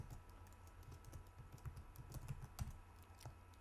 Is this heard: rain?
no